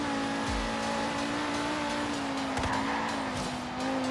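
A 2009 Ford Focus racing in Forza Horizon 3, engine holding a steady droning note with brief tyre squeals and skid bursts, close and continuous with no talking.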